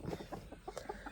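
Several short clucks from hens close by, coming in quick irregular bursts with no talking.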